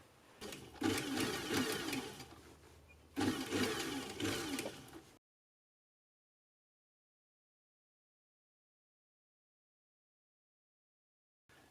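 A sewing machine stitching boning channels into a corset dress lining runs in two loud bursts, a brief pause between them, then stops abruptly into silence for the rest.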